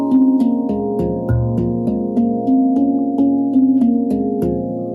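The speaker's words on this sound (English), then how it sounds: "we want an open and nice, clear sound" Handpan tone fields struck with the fingers, ringing out in a steady stream of clear, sustained metallic notes with long overlapping decay, played close and loud without any talking.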